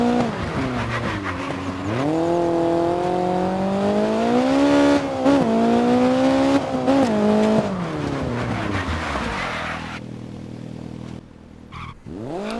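A rally car in the video game DiRT 4, its engine revving up and down with shifting pitch as it drifts, loud and continuous, followed by a quieter stretch with faint tire noise near the end.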